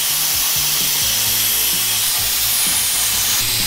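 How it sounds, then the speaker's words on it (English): Grinder working metal pieces in a shop during a rat rod tow truck motor overhaul, giving a loud, continuous abrasive hiss with a rising and falling motor whine throughout. "I can grind all those to look pretty."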